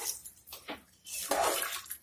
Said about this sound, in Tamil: ரெண்டு கப் ரைஸுக்கு நான் இப்போது 5 டம்ளர் தண்ணி எடுத்துருக்கேன். அதை ஆட் பண்ணிவிட்டு